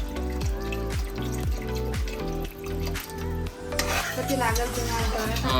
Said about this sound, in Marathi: आता याच्यात पाणी टाकायचा.